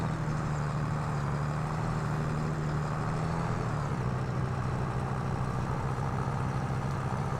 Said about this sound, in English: Let me back on up to the Landini, which I left the engine running